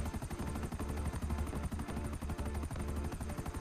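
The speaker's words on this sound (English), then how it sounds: "Nope, he's in a fucking helicopter." Video game helicopter with a steady rhythmic rotor chop that runs throughout, dense and continuous under a busy game mix that includes gunfire-like bursts.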